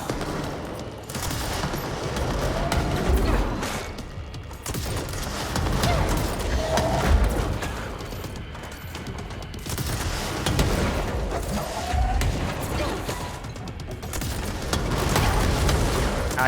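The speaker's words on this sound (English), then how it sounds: "There's explosions everywhere, I can't see anything." Explosions and rapid gunfire-like blasts from the video game Control come in repeated loud bursts across the stretch, a chaotic ongoing barrage with little or no talking over it.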